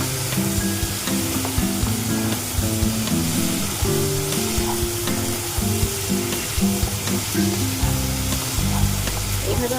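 Green chillies frying in a pan: a steady, dense sizzle that runs unbroken throughout, with faint stirring scrapes and background music underneath.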